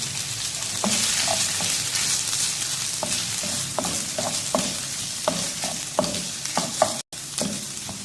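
Finely chopped onions fry and sizzle in a pan as a spoon stirs them for a chicken bread filling, with steady close sizzling broken by repeated scraping strokes against the pan.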